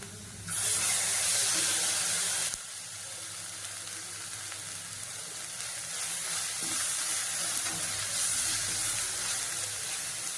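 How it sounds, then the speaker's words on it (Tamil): Ginger garlic paste sizzles in a hot pan while potato biryani is being cooked, a loud hissing burst at first that settles into a steady frying crackle, with no speech. "இஞ்சி பூண்டு பேஸ்ட் வந்து அந்த பச்சை வாசனை போக வதக்கிக்கணும்"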